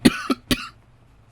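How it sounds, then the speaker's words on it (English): A man coughs three times in quick succession, close and fairly loud, with a short faint throat noise trailing after a pause. "that's why I cough"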